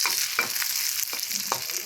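Onion, garlic, ginger and green chilli sauté in a pan with a soft, steady sizzle, broken by a few sharp scrapes of a spoon stirring, close and fairly quiet, with no talk.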